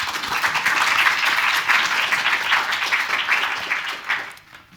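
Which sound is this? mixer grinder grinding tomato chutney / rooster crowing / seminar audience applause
seminar audience applause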